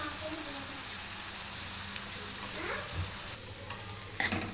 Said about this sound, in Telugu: అన్నీ వేసి కలుపుతున్నాను.